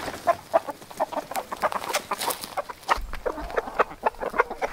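Chickens cluck in a coop where a broody hen sits on eggs, with repeated short clucks and calls close by and a fowl squawk standing out partway through, with no talking.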